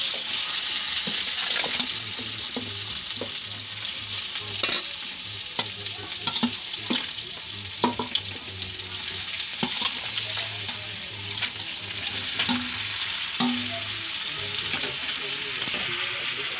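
Potatoes frying in mustard oil in a pan, a constant loud sizzle with repeated scraping and clinking of a spoon as they are stirred, close up.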